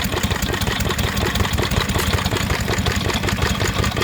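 A vintage stationary engine runs steadily while driving a Bentall corn mill, giving a loud, close, even chugging beat with a rapid knocking pulse throughout.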